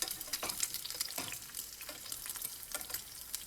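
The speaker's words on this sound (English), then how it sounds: "put a lot of oil in the pan, and then crack the egg in and scoop the hot oil on top of the egg" An egg frying in plenty of hot oil in a pan, with oil spooned over the top; a soft, steady crackling sizzle with intermittent scraping, fairly quiet and without speech.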